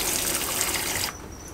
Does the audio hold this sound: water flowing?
yes